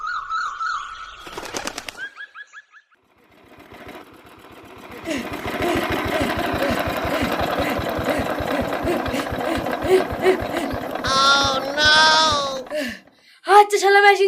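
A machine engine starts with a rough sputter and then settles into a steady, rhythmic chugging run that carries on for several seconds, while people talk nearby and shout over the running engine.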